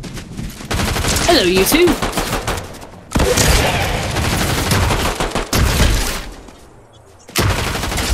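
Gunfire in Fortnite fills the clip with loud, dense, sustained bursts broken by brief gaps, and a voice briefly speaks over the shooting.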